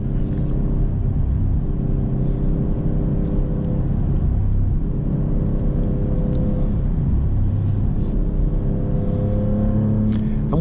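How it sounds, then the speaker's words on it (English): A 2025 Maserati GranCabrio Trofeo engine rumbles steadily from inside the cabin while driving through turns, with the engine note rising and falling and a few faint clicks on top. "All right, we'll take some turns over here."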